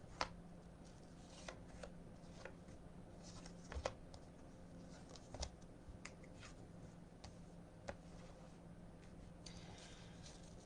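Tarot cards being shuffled for a weekly reading, a quiet run of soft riffles and flicks with a few sharper snaps, close by and heard on its own against a low steady background hum.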